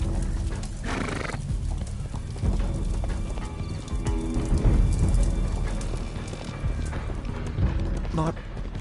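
In the video game Sherlock Holmes: The Devil's Daughter, a horse whinnies and snorts while hooves clop and thud, with a busy, dense layer of noise and scattered voices throughout.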